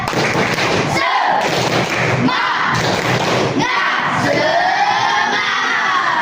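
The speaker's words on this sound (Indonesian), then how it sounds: "Tepuk semangat." A class of students in an Indonesian classroom doing a rhythmic group clap chant, heavy thudding claps in bursts mixed with loud unison shouting and cheering from the children, close and energetic.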